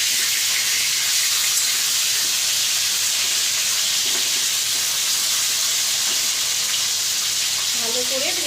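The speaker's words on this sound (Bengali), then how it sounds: "ভালো করে ভেজে নেব।" Hilsa fish heads fry in a pan with a loud, continuous sizzling hiss that holds steady throughout. A faint voice briefly rises near the end.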